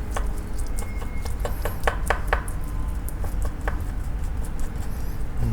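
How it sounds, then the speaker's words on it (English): A spoon scrapes raw meat from a tuna block for sushi, making rapid, close, repeated scratchy strokes over a steady background hum. "Just take a spoon and just scrape out the meat."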